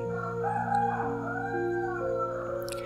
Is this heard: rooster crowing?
yes